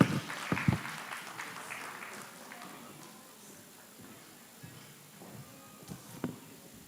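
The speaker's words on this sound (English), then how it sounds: "Please, a round of applause for her." An audience applauds after a speech at a forum on preventing violence against women and girls. The clapping is loudest at the start, then thins to a softer patter with a few scattered late claps.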